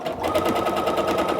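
Sewing machine stitching fabric strips for a quilt, a steady rapid mechanical chatter running continuously at moderate volume with no talking.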